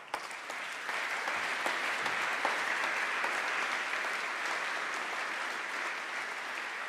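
Sustained applause with some cheering fills a room at a formal craft and design awards ceremony, steady and fairly distant, continuing without letup across the clip.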